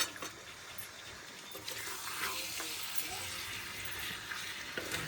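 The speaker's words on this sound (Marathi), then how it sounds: "चला आता आपण पलटून वगैरे घेऊ मस्त मिक्स करून घेऊ" Chicken stirred and fried in a pan at home, a soft steady sizzle with scraping stirring strokes and light clatter, close but quiet, no voices.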